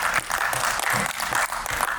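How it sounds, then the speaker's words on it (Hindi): An audience at a literary event bursts into loud, continuous clapping for a writer invited onstage, the applause thick and sustained throughout. "हम सब कर्तव्य ध्वनि से तालियां समर्पित करें"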